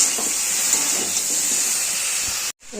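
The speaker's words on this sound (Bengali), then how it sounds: "টমেটোটা দিয়ে দিলাম।" Tomato goes into a sizzling vegetarian cauliflower, potato and bean curry, giving a steady bright hiss of steam and frying that cuts off abruptly near the end.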